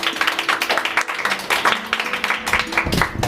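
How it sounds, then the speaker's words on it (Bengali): Loud audience applause with cheering at a Bengali dance reality show's Independence Day special, dense clapping continuing throughout with some voices mixed in. "সবাই জোরে হাত তালি।"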